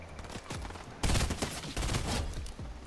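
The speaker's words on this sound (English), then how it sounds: "A lot of shots." Gunfire in the video game Fortnite, rapid overlapping shots in dense bursts that swell loudly after a softer opening volley.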